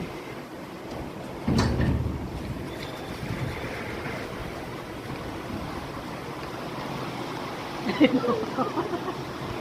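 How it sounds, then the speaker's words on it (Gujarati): Strong wind and the start of rain in Junagadh under a dark sky, a steady broadband rush with louder gusts and clatters, and people talking faintly in the background. "વરસાદ આવવાની એન્ટ્રી કરી છે।"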